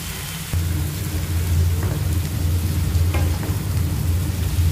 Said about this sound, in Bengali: এবার আস্তে আস্তে সবকটা একটু হালকা হালকা করে ভেজে নেব।